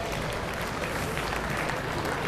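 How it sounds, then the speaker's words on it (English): A crowd at an indoor bowls quarter-final applauds a bowler's shot, steady clapping filling the hall throughout. "And getting a deserved round of applause"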